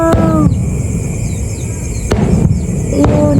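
Fireworks bursting outdoors in a neighborhood, with a few sharp bangs spread across a steady background hiss and crackle, moderately loud and fairly distant. A voice briefly calls out near the start.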